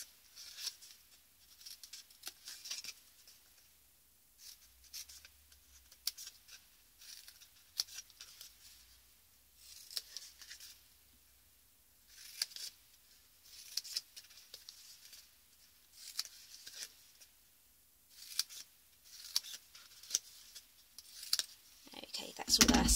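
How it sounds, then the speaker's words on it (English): Scissors snip through card stock for a small 2x2x2 gift box lid, a string of short, crisp cuts in irregular bursts, close and fairly quiet, with brief pauses between runs. "That's all our snipping done."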